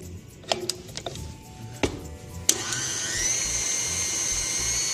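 Stand mixer with a whisk attachment beating egg whites in a mixing bowl at medium-low speed, a steady whirring drone that starts after a few scattered knocks and clinks and runs on to the end.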